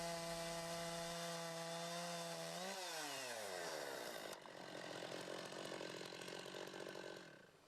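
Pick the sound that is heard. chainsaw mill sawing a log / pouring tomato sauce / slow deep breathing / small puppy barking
chainsaw mill sawing a log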